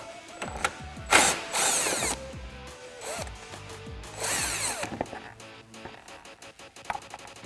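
A power drill whirs and ratchets in repeated bursts while backing out the last screw holding a Jeep Gladiator JT headlamp, close and loud with short pauses between runs.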